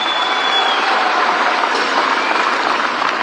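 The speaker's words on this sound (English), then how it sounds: "Another round of applause for His Excellency the Deputy President" A large audience applauds at a political event for Kenya's Deputy President, a dense, steady wash of clapping that holds at full loudness throughout with no pauses.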